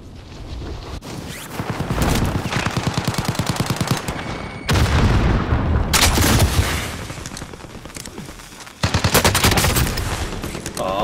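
Gunfire in the video game Crossbow: loud rapid bursts of automatic shots in dense repeating volleys, separated by short pauses, close and dominant with faint voices underneath.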